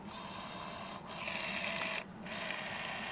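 Electric wing mirror motor on a Peugeot 306 whirring in short bursts, two faint nearby motor runs separated by brief stops, with no talk.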